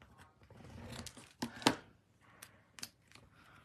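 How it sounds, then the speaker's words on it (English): Scissors snip through craft material, cutting ends on a diagonal, in a handful of short, crisp cuts at close range with a quiet pause between them and no talk. "Oh, I'm cutting the ends at a diagonal."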